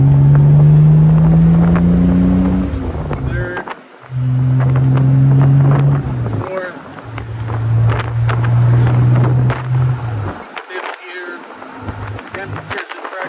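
A 1965 Aston Martin DB Short Chassis Volante engine revs up through the gears, each rising drone cut off by a brief dip at the shift, heard from inside the car with wind noise and someone talking over it.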